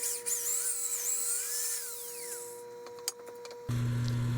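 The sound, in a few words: drill bit enlarging hole in frozen axle bolt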